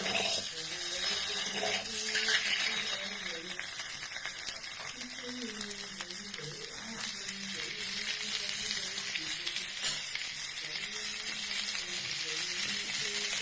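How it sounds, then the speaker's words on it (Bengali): Eggs frying in a pan and turned over, a steady hiss and crackle heard under a voice talking and background sounds throughout. "এগুলো একটু এপিট উপিট করে ভেজে নেবো অল্প আছে।"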